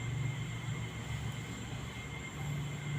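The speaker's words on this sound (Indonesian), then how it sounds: "ada suara mobil, suara kereta api, yang mohon maaf karena kita live-nya dekat stasiun kereta api dan dekat pantura ataupun jalan raya" Train and road traffic near a railway station beside a main highway, a steady low rumble and drone with a constant hum, continuous and moderately distant, with no clear individual pass-by.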